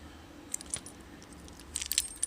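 Keys on a keyring hung with a signed bullet shell jingle in two short metallic bursts, one brief shake and then a busier jangle, against quiet room tone.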